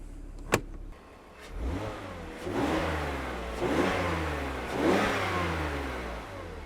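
A BMW E46 325i Touring with the M54 inline-six starts with a sharp click, then revs in three rising and falling pulls, a smooth mid-pitched engine note heard nearby with no talk.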